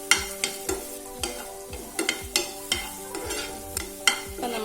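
Small chopped pieces of nendran banana fry in ghee in a pan, a steady sizzle broken by regular scraping strokes of a spatula or spoon, roughly two per second, close and fairly loud.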